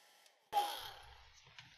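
A hair dryer switches on partway through and blows steadily onto a watercolor painting of a baby owl, a loud, even rush of air after a brief quiet lead-in.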